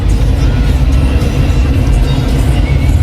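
Car engine droning steadily from inside a moving car, a low continuous rumble with no clear rise in revs and no talk.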